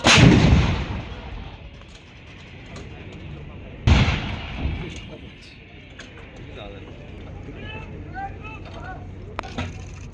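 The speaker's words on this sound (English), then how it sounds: "The gun will now display its firepower capability on Conehill top" An Indian Army artillery gun fires on a target on Conehill top during a firepower display: two sharp, heavy booms with rolling echoes, the first at the start and the second a few seconds later, with a voice speaking between them.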